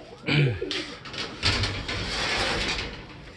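Young birds cooing and calling softly close by, mixed with rustling and clattering of a cage or door, no talking.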